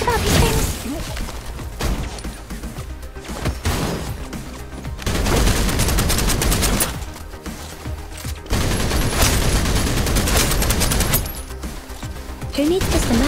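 Gunfire in the video game Snowbreak comes as dense bursts of rapid automatic shots in blocks several seconds long, loud and close, separated by brief lulls, with voices speaking at points.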